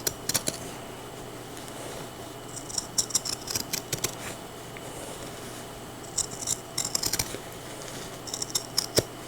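Pinking shears snipping through a quilted fabric layer for a jacket, a series of short crisp cutting snips in irregular bursts, close and fairly quiet, with no talking.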